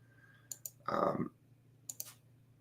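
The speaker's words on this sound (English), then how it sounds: "One more share here, and then the clicking will go away." Computer mouse clicks in two quick double pairs, sharp and close, separated by a brief murmur of voice, over a low electrical hum.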